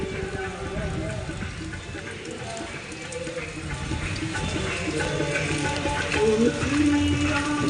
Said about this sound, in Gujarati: સરસ મજાનો વરસાદી માહોલ છે અત્યારે